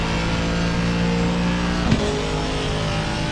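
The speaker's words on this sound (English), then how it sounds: "I love the sound of that Aston" Aston Martin race car in Assetto Corsa Competizione at Spa, its engine droning loud and steady at high revs, with a brief pitch drop as it shifts gear partway through.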